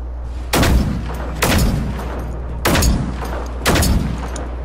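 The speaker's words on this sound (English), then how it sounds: "I'm gonna use a bigger gun." Four heavy gunshots from a bigger gun in the video game Generation Zero, evenly spaced about a second apart, each a loud booming crack with a short decaying tail, no talking over them.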